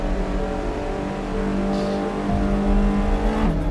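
A car launches hard on the original Top Gear test track after a clutch drop, its engine note climbing steadily under load before dropping sharply at an upshift near the end; loud, close and without talk.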